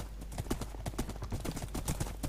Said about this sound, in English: I've got a horse!